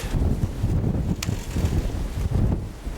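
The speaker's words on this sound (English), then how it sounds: "Nice heavy gust." A heavy gust of wind around a Red Haven peach tree, continuous low rumbling buffeting right on the microphone with occasional short rustling bursts, nobody speaking.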